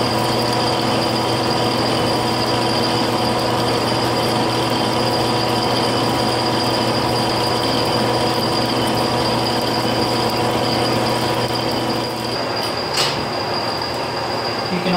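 A metal lathe runs with its lead screw engaged, making a loud, unbroken mechanical drone with a steady layered hum throughout and a single faint click near the end.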